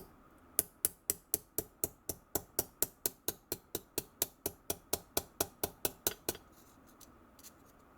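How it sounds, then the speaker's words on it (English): A ball peen hammer strikes metal about twenty times in a steady, even rhythm, each blow a sharp, loud ring, then the hammering stops and only faint room noise remains. "now I'm going to work this with my ball peen"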